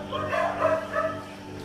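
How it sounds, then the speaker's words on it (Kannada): Pet dogs named Scooby and Ruby bark and yip in short, close, agitated bursts. "ಉಳಿದ ಇಬ್ರು ನಾಯಿ ಇದೆ, ಸ್ಕೂಬಿ ಹಾಗೂ ರೂಬಿ. ಅದು ತುಂಬಾ ಬೊಬ್ಬೆ ಹಾಕ್ತಾ ಉಂಟು."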